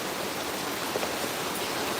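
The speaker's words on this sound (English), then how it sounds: "Just started raining again so hard. Oh, so loud when it rains." Heavy rain pours down in a loud, even, dense hiss that never lets up, with no voices over it.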